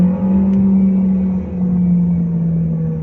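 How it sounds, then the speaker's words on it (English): Cabin drone of a Volkswagen Lamando's 1.4-liter four-cylinder engine while driving, a steady low hum that swells slightly and then settles. "The engine also sounds pretty good."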